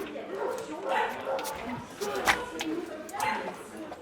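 Several shelter dogs in a reception area give scattered yips, short barks and whimpers, loud and close, over a continuous narrating voice.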